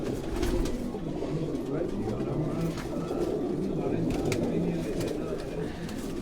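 Pigeons in a loft belonging to a pigeon keeper in Quetta coo softly and continuously, a low burbling chorus close by with a few light clicks and rustles over it.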